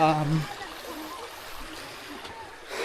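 A river flowing outdoors: a steady, broad rushing wash of water throughout, moderately close, with a voice speaking over it briefly at the start.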